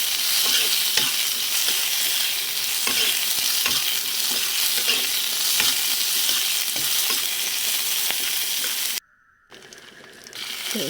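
Dried red chilli, cumin and chopped onion are stirred in hot oil in a pan, with a loud, steady sizzle and light scraping taps. The sound cuts off near the end, then the frying noise returns briefly.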